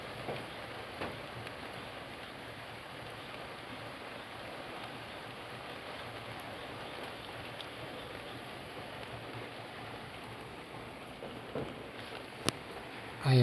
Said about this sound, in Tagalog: sobrang lakas ng hangin at ulan